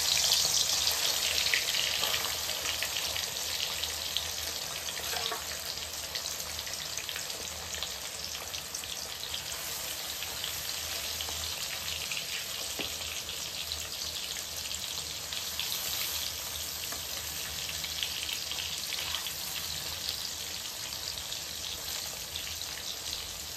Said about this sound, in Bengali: তেল গরম হয়ে গেছে, চিংড়ি মাছগুলো ভেজে নেব।